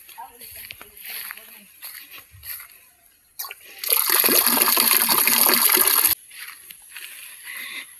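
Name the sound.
flowing water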